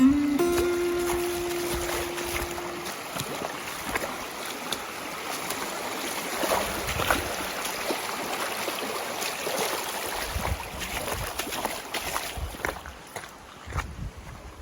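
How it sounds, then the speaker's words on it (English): Rushing water of a cold creek in the Great Smoky Mountains runs continuously at close range while someone wades across, with splashes and scuffing steps breaking through the steady stream noise. "I'm crossing a cold creek."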